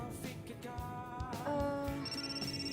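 A telephone rings on and on with nobody answering, its tones faint and under room noise, with a clearer electronic ring near the end.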